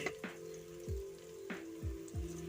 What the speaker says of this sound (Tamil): இஞ்சி பூண்டு பேஸ்ட்டு பார்த்திங்கன்னா அதோடய பச்சை வாசம் போகிற வரைக்கும் நல்லா வதக்கு வதங்க வதக்கி எடுத்துருங்க